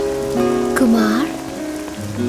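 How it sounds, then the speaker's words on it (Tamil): Steady heavy rain pours down during a comedic film scene, a continuous hiss lasting throughout, with a sustained tonal sound running on top of it. "நல்ல மழை பெய்யுது"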